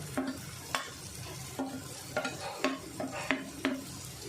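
Raw mango with chilli powder, garam masala and turmeric sautés in a pan, giving a soft, close sizzle with rhythmic scraping stirs every half second or so, no talk.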